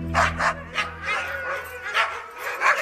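Alaskan Husky sled dogs of a dog team bark and yip repeatedly in short, excited bursts, close and loud, with whining between barks and several dogs overlapping.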